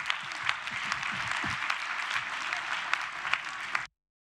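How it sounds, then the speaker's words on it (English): An audience gives a sustained round of applause for a presenter at an art event, with dense steady clapping that runs for about four seconds and then cuts off abruptly. "A big round of applause for Isabel Nolan."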